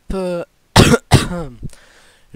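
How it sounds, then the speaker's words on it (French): A few harsh coughs in quick succession from one person, loud and close, followed by a brief throat sound; a short vocal sound comes just before. "Je m'en excuse vraiment si je tousse."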